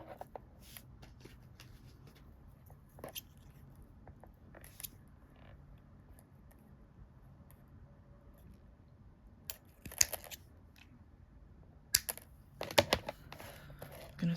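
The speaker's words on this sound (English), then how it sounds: "Now I'm going to cut the ends off." Scissors snip off the cord ends of a corkscrew lanyard in a series of faint, scattered clicks and cuts, with a cluster of sharper snips toward the end in a quiet room.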